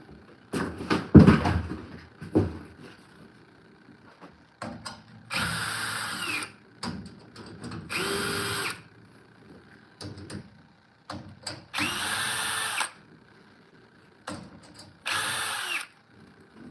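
Cordless power drill driving a few screws, in short loud whirring bursts separated by pauses, with clicks and handling knocks between runs, close up.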